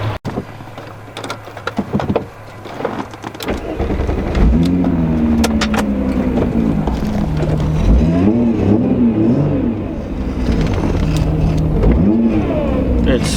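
A VW VR6 engine, either the 2.8L or the 3.2L, idles with a deep burble, then revs up and down several times in rising and falling swells, loud and close.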